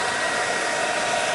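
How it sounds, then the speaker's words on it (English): A hairdryer blows a continuous, loud, steady whoosh of air at close range over a motorcycle wheel. "So just using the hairdryer to make sure it's really dry,"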